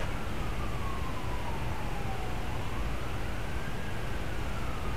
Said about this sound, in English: Can you hear those cruiser sirens?